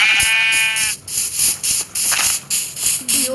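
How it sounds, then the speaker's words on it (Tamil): An animal in the Lokicraft video game lets out a bleating, lowing call, followed by a series of rhythmic hissing bursts that repeat steadily at close range. "ஒரு மாடு இருக்குடா."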